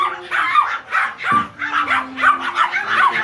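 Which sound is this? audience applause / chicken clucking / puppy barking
puppy barking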